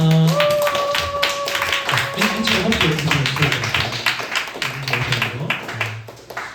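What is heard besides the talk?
audience clapping to welcome visitors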